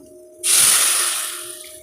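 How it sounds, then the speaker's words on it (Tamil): Dissolved tamarind water is poured into a hot pan of tempered chillies for okra tamarind curry, bursting into a loud sizzling hiss that slowly fades. "இப்போ புளி கரைச்ச தண்ணியை ஊற்றிக்கலாம்."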